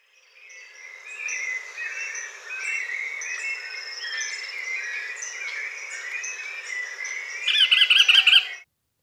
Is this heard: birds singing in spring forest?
yes